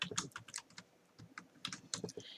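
Someone typing Python code on a computer keyboard, with close, crisp keystrokes arriving in quick irregular clusters separated by brief pauses.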